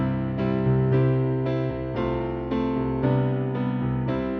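Kawai ES520 digital piano played with its lid closed, a steady sequence of sustained chords changing roughly every half second, moderately loud and somewhat muffled, with no talking.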